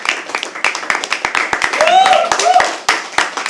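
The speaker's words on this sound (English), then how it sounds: "Can we please have a round of applause?" Scattered hand claps from a small audience at a live poetry open mic, with a few cheers and voices rising in the middle of the burst.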